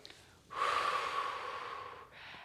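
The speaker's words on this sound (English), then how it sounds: "In through the nose," A single long, audible breath drawn in through the nose during a Pilates breathing exercise, close and airy, swelling quickly and holding steady before a softer final sniff.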